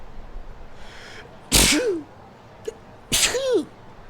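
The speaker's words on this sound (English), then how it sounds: "And you just sneeze." Two sneezes, about a second and a half apart, each a sharp burst of breath followed by a brief vocal tail, close and loud against quiet room tone.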